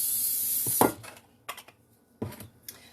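Cooking spray hisses into a small loaf pan for about a second, a loud close burst, followed by a few sharp clanks and taps of the metal pan being handled.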